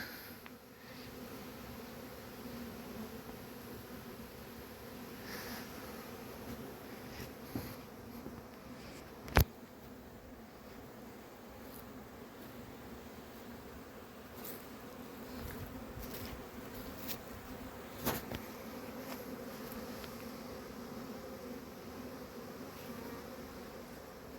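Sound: honeybees buzzing around a hive

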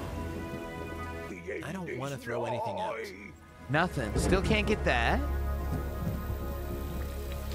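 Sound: rain in a video game

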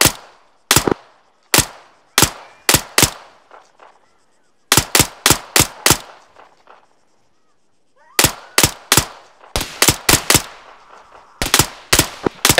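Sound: machine gun fire in a video game firefight

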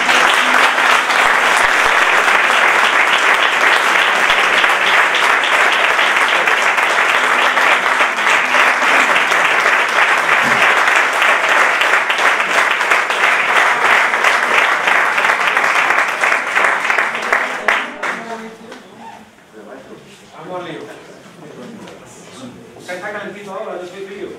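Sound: audience applause at flamenco concert

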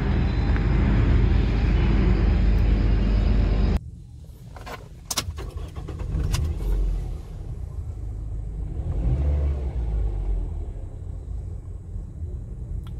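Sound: Toyota Vios 2011 engine running

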